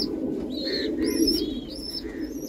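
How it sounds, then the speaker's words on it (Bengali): Domestic house pigeons, a male and female pair, coo steadily in low rolling tones across the whole stretch, with a few thin chirps from other birds above them, close and fairly loud with no talking. "এটা নর পায়রা হবে, এটা মাদা পায়রা, বাড়ির পায়রা"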